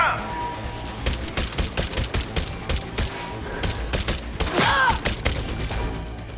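Rapid bursts of gunfire from a firefight in the video game Cyberpunk 2077, clustered sharp shots repeating across the stretch with a brief rising whine near the end, with a voice talking under it.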